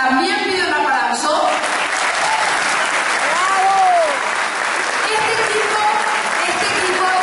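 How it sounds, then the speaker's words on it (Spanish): An audience at a housing program launch event breaks into loud, sustained applause that fills the room for several seconds, with a speaker's voice briefly rising over the clapping. "por nuestro querido tucumano Domingo Amaya, para quien también pide un aplauso."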